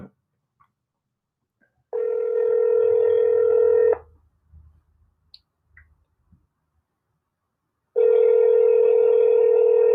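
A speakerphone call plays loud, steady two-second ringback tones. Two separate tones sound several seconds apart, with faint clicks and a quiet room in between.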